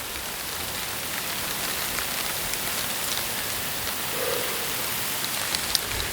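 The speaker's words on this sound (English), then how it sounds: "I'm fixing to get rained on again. Here comes the rain." Steady rain falls outdoors, a continuous even hiss of drops on surfaces with a few sharper nearby drips, moderately close and without talk.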